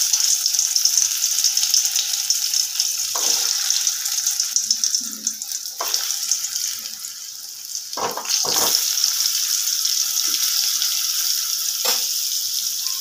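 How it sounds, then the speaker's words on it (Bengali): Potato pieces fry in hot oil with turmeric powder, a continuous bright sizzle broken by several deeper stirring scrapes and clatters in the pan. "আলুগুলো সুন্দর করে লাল করে ভেজে নেব।"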